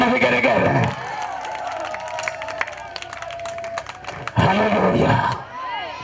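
A church congregation bursts into clapping and high trilling ululation, with shouts over a preacher's voice; the sound dips briefly, then a loud second wave of claps and cries rises near the end.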